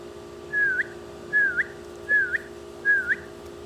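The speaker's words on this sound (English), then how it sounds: "I'm going to keep whistling until she's right back at our feet." A trainer blows four evenly spaced whistle calls to recall a dog named Lexee during training; each is a clear, fairly loud falling-then-rising tone with short gaps, over a quiet outdoor background.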